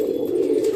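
A Sabja pigeon coos in a low, steady, resonant tone, close by and moderately quiet, with no talking over it.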